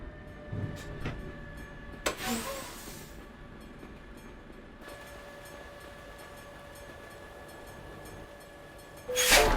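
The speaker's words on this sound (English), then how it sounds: "We have a train coming." A train rolls past in Euro Truck Simulator 2 on a Russian map, producing a steady mechanical rumble with clicking wheel sounds that fades out partway through before a louder burst returns at the end.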